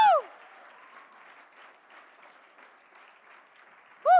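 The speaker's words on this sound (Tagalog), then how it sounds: "Palakpakan mo ang Panginoon." A church congregation breaks into sustained applause, a steady dense patter of clapping that fills the room, framed by brief loud vocal shouts at the start and end.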